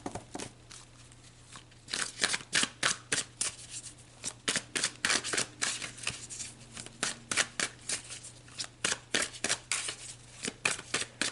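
A deck of tarot cards is shuffled by hand, producing a rapid series of crisp riffling bursts in quick rhythmic repetition, close and clear against a faint low hum, with no talking.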